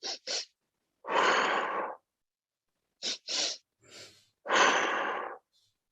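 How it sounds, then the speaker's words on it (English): A person breathing in a physiological sigh: two short sharp inhales followed by a longer, drawn-out exhale, repeated twice, close to the microphone with no talking. "the physiological sigh is one that we found to be really efficacious. So that's a double inhale and a longer exhale."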